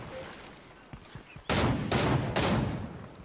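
A new assault rifle in Fortnite firing close and loud in a few sharp bursts of rapid shots, after a quieter stretch with faint background noise.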